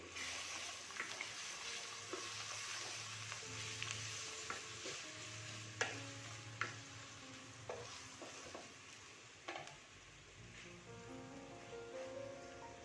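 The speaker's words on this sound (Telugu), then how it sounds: "అల్లం వెల్లుల్లి పేస్ట్ బాగా వేగిందండి." Ginger garlic paste sizzling and frying in a pan for a chicken dum biryani, a continuous crackling hiss broken by frequent scrapes and clinks of a spoon stirring, close and alone.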